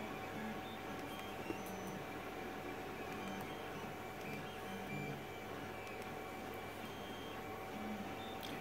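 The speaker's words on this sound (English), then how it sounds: "it's preparing to print" Creality CR-10 3D printer fitted with a 1 mm nozzle, running steadily with a continuous mechanical whir and a faint steady whine, close and even throughout with no talking.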